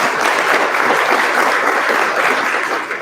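A steady, dense round of applause fills the room at a Woodinville Chamber monthly business luncheon, honouring platinum sponsor members; the clapping is loud and continuous for about three seconds, tapering slightly at the end.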